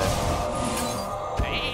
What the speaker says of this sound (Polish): Owca.